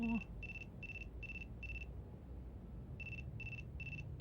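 A phone rings in the Chaos;Head Noah visual novel, sounding as a tinny electronic trill in clipped pulses, five quick bursts, a pause, then three more, over a low hum.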